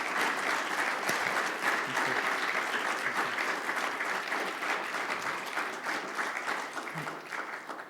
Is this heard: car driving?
no